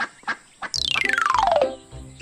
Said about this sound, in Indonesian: Itu bebek, itu bebek.